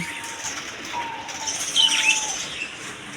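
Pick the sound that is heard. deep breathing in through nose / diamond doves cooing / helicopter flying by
diamond doves cooing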